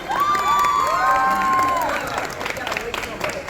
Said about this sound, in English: She gets her own round of applause.